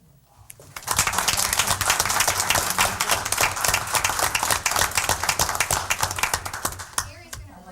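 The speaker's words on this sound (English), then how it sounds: "would everybody please give him a round of applause?" Sustained applause from an audience at a Starkville Board of Aldermen meeting, dense clapping rising quickly and continuing for several seconds before fading, with a low background hum and some murmured voices underneath.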